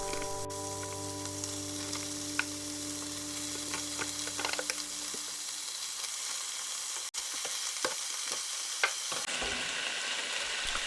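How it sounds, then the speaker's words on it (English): Minced beef sizzles steadily in a frying pan with softened onion, pepper and chillies for chilli con carne, a loud continuous hiss with occasional pops and scrapes of stirring, close up and with no talking. "You should hear a nice sizzle when you add the mince to the pan."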